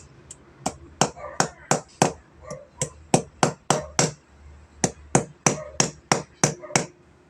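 Loud, close hammer blows on a 3hp Kolin fan motor strike in a steady, slightly uneven rhythm, about sixteen hits in a row with brief pauses between them.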